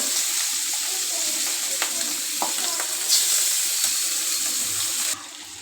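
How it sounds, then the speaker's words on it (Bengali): Hilsa fish frying in hot oil with eggplant, a steady broadband sizzle and hiss throughout with a few small pops and clinks, close and fairly loud, easing off sharply near the end. "মাছটি ভেজে নেব ইলিশ মাছ দিয়া বেগুন দিয়া"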